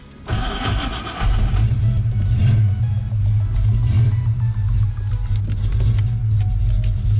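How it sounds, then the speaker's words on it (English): A Fox Body car engine cranks and tries to catch, a steady loud low rumble with a rough churning tone running for several seconds, close by and with no talk over it. "Try to crank it again."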